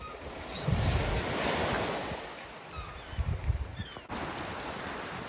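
Sea waves washing onto the beach at Aberystwyth as the tide comes in, a steady nearby surf with rolling swells and gusts of wind buffeting the microphone.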